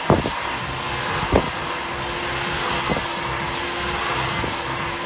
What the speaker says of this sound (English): Get the nozzle right on the dryer and on the brush